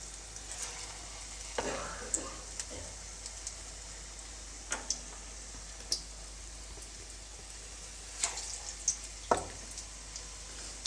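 Okra mirchi fritters fry in hot oil with a soft steady sizzle, broken by several sharp clinks and scrapes as the pieces are turned in the pan.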